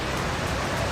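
Fast floodwater rushing through streets during torrential rain in Sikar, Rajasthan, a dense, continuous roar with no breaks.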